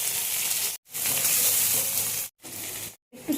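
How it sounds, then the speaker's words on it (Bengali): Onion frying in a pan sizzles loud and close in a continuous hiss, cut by short silent gaps. "পেঁয়াজটা ভাজা হয়ে গেছে"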